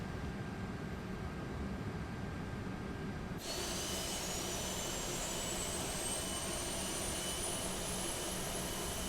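Airbus A330 airliner jet engines start up in a flight simulator game, spooling with a sudden shift into a loud, broadband roar and a rising high-pitched whine that keeps climbing.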